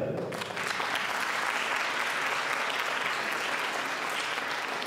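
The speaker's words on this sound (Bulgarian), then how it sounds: "Аплодисменти за формация Бисера." Enthusiastic applause from an audience at an anniversary stage show fills the clip, a dense, even clapping that starts after a brief quieter moment and continues steadily to the end.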